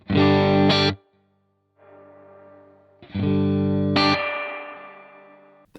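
Guitar chords played through a Crazy Tube Circuits White Whale V2 reverb pedal ring out twice, each strum sustaining and decaying into a washy reverberant tail, loud and close with no voices.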